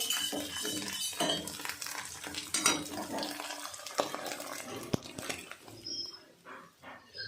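Busy kitchen clatter with utensils clinking and stirring against a pan as vegetables and egg fry for chow mein, a soft sizzle underneath and occasional sharp metallic knocks.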